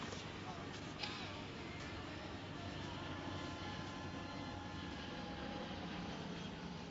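A distant airliner, an American flight from Chicago, drones steadily near an airport as it comes in to land, a constant low engine rumble with faint voices murmuring under it.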